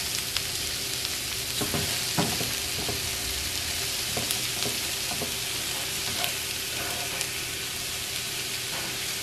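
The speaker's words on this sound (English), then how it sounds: "while this continues to saute" Asparagus sautéing in a hot pan, a dense, steady sizzle and frying hiss throughout with occasional soft stirring clicks, close and fairly loud, no voices.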